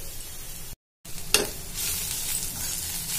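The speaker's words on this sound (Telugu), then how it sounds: "కొంచెం ఇట్లా వెడల్పుగా బాండిలో అంటుంటే ఏమైతే కొంచెం తొందరగా ఫ్రై అవుతుంది" Beetroot and moong dal curry spread out and frying in a kadai, giving a close, steady sizzle broken by a short gap and one sharp scrape, with no talking.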